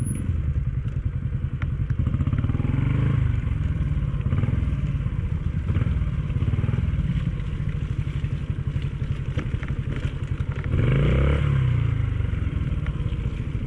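Small Honda Cub motorcycles labor through mud at a rough camp trail, with a continuous close, droning engine note and periodic clattering thumps and crackles as the wheels churn.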